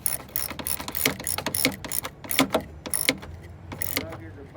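A ratchet wrench tightening 10 mm bolts on a 2003-2007 Honda Accord radiator fan, rapid close metallic clicking in short bursts with brief pauses between them.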